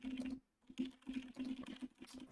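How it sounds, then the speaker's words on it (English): Fast, furious typing on a computer keyboard, close and quiet, rapid clusters of key clicks broken by a brief pause. "So I am typing furiously, as I'm sure you can hear."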